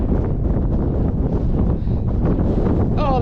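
Strong wind gusting across a mountain top on the Isle of Benbecula, a loud, continuous roaring buffet battering the microphone with no break and no voices.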